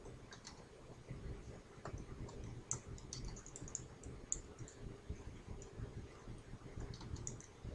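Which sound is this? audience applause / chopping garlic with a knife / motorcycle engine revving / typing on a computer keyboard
typing on a computer keyboard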